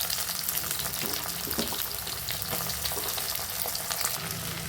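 Steady, dense sizzling of shallots frying in hot oil, loud and close, with a continuous crackling hiss and no talking.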